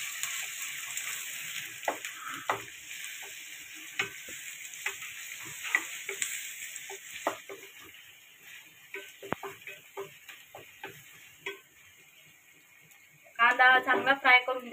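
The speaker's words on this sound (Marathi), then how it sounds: "आता कांदा हा चांगल्यापणे आपण फ्राय करून घेऊया" Chopped onion fries in two spoons of hot oil in a kadhai, giving a steady close sizzle broken by frequent stirring clicks and scrapes; a voice speaks briefly near the end.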